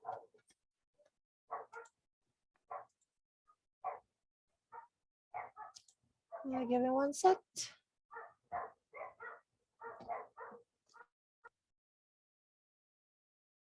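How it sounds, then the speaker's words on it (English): Dogs in a home office bark in short, separated bursts that repeat every second or so, with a louder cluster of barks midway, while a person briefly speaks. "My dogs are so noisy."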